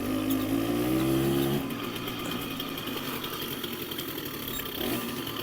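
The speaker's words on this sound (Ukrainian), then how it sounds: "Мопед тяне! мене 75 кг, а він їде." An old moped engine runs, starting with a strained, revving whine that then drops to a steady buzzing drone, heard close with no talking.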